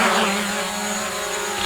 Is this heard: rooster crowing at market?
no